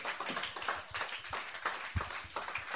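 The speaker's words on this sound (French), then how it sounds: "Clap for me, clap for me." A church congregation claps during a bishop's sermon, a steady run of sharp hand claps spread across the room at moderate loudness, with no voices over them.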